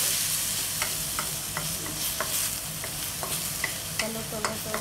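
Food is sautéed in a frying pan for sweet and sour fish: a constant close sizzle under repeated sharp scrapes and taps of a utensil stirring against the pan, with no talking.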